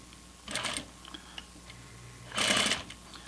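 A sewing machine stitches a pocket seam on flannel pajama pants in two short bursts of quick mechanical whirring, separated by a quiet pause, close and fairly soft.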